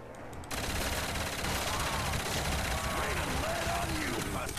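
Automatic weapon fire in the Custom Zombies shooter game, a dense, sustained burst of rapid shots starting half a second in and running loud to the end, with a player's voice faintly underneath.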